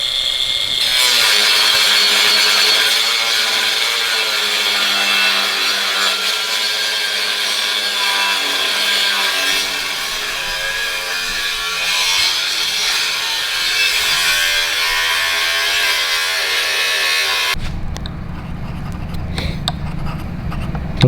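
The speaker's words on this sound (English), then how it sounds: "it's a funny looking plasma cutter" A plasma cutter slicing through metal on a Fox Body Mustang project, a loud steady hissing roar held for about seventeen seconds before cutting off into quieter shop noise.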